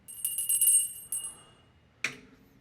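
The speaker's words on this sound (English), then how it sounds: "there's the bell" A small bright bell rings several quick strikes, then two more isolated dings after short pauses, each with a fading metallic ring in a quiet room.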